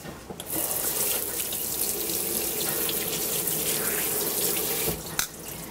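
Hot water runs steadily from a tap over glass jars being rinsed in a sink, a continuous close hiss and splash with a brief break near the start and a clatter near the end.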